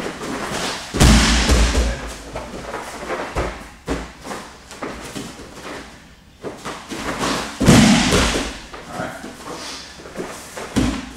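A body slams onto a training mat during an Uchimata judo throw, with two loud thumps near 1 and 8 seconds among shuffling and scuffing, plus a few softer impacts in between, close up in a combatives training room.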